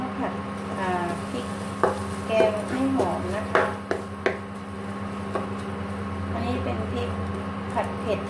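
Faint sizzling of curry paste frying in hot oil in a pan, with a few scrapes and clinks of stirring and a steady background hum.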